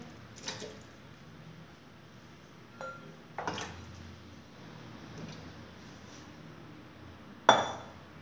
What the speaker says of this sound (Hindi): अब मैं पाए ऐड करूँगी।